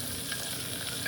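Two onions frying in a pan until brown, giving a steady close sizzle with faint stirring, with no one talking.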